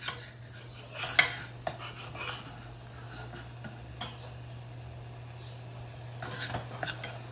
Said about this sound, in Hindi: इसको थोड़ा सा और भूनेंगे ताकि अच्छे से जिंजर गार्लिक पेस्ट भून जाए